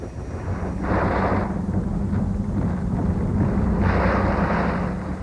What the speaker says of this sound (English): It was one of the most powerful hurricanes of the century, winds gusting to 165 miles an hour.